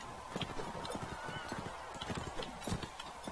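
Horse hooves galloping in the video game Mount and Blade Warband, a steady rapid clip-clop rhythm over a dense wash of battle noise, with faint voices underneath.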